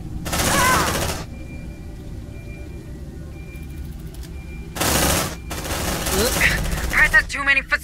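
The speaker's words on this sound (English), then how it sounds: "Focus fire on target!" Heavy sustained weapons fire in Aliens: Dark Descent, with two dense roaring volleys of automatic gunfire separated by a quieter stretch, then scattered sharp shots and crackling bursts, loud and close.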